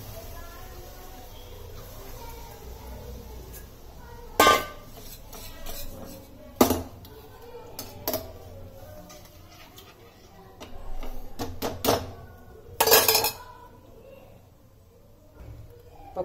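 A spoon stirs gram-flour buttermilk into a fried onion-tomato masala in a cooking pot, giving a few sharp, sparse clinks and scrapes against the metal over a low, steady kitchen hum.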